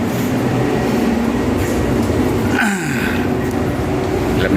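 LRT light-rail train running between stations, a steady loud rumble of wheels and motor with a brief rising whine partway through, heard from inside the car.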